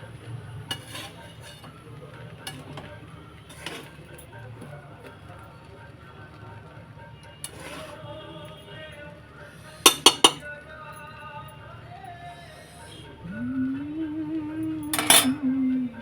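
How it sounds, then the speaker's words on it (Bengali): Spicy pulao rice is stirred and fried in a pan, with scattered clinks and scrapes of a metal spoon against the pan over a low sizzle, a few sharp knocks, and a voice briefly heard near the end. "এইভাবে নেড়ে নেড়ে ভাজা ভাজা করতে হবে"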